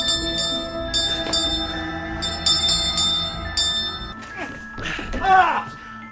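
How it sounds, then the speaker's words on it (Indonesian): A bell rung upstairs to call someone in the film Hokum gives several sharp, ringing strikes with lingering tones, followed by softer rustling and thumps. "Dia berusaha memberitahu Jerry bahwa dia masih di atas dengan membunyikan lonceng."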